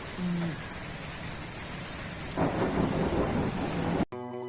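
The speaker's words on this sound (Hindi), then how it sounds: "और बिजली भी चमक रही थी और बड़े जोरों के बादल भी गरज रहे थे।" Heavy rain pours in a thunderstorm, with a dense steady roar and a deeper rumble swelling midway, close and loud, before cutting off abruptly near the end.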